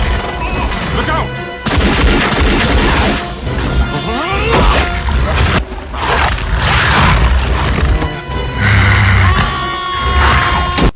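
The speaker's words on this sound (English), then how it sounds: "Everybody's shooting" Gunfire from a jungle battle scene in the movie Congo comes as chaotic volleys of shots and crashes mixed with creaks and impacts, loud and dense, with shouting voices among them.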